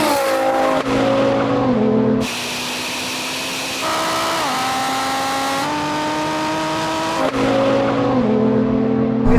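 A tuned 1,000hp VW Golf R accelerates hard in a drag race against a Ferrari SF90 and BMW M240i, its engine climbing steadily through rising revs with abrupt gear changes, loud and close throughout.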